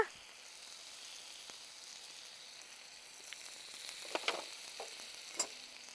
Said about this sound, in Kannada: ಉಪ್ಪನ್ನು ಹಾಕಿ ನಾನು ಚೆನ್ನಾಗಿ ಕೈಯಾಡಿಸ್ತಾ ಇದ್ದೀನಿ